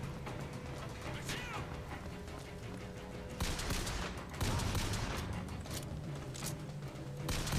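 Gunfire and combat noise from the video game BioShock Infinite, with repeated shots and bursts at moderate level in a busy battle mix, someone talking now and then.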